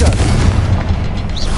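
Confringo fire spell explosion from Hogwarts Legacy, a short, heavy, close boom with thick low rumble filling the whole moment.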